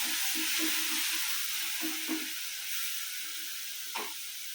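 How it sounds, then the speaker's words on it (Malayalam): Crushed chili and onion fry in hot oil in a pan for a banana blossom thoran, giving a steady, close sizzling hiss broken by occasional light stirring scrapes. "ഇനി ഇതിലോട്ട് മുളകും ഉള്ളിയും ചതച്ചിട്ട് കൊടുക്കും നല്ല പോലെ മൂപ്പിച്ചെടുക്കാം"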